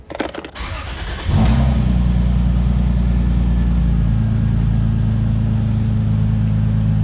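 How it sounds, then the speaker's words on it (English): A 2JZ-swapped car cranks briefly with a quick starter whir, then catches and settles into a steady, loud idle that runs close by for several seconds with no talking. "Time to start this car again and see what happens with the charging system."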